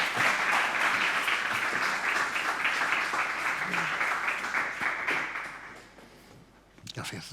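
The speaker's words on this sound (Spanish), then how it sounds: "Les damos un aplauso," An audience at a panel debate on creative ecosystems and contemporary craft applauds warmly and steadily, the clapping fading away after about six seconds before voices and small knocks follow.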